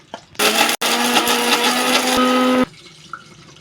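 A kitchen mixer grinder whirs loudly for about two seconds with a brief stop, grinding spices and dry coconut to powder, then cuts off leaving quiet.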